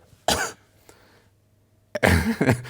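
A person in a bowling crowd coughs twice close by, separated by a quiet pause, with a faint throat sound between.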